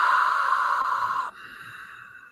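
Ujjayi breath on the exhale, a steady close airy hiss pushed through a constricted throat, lasting just over a second before a quieter breathy tail.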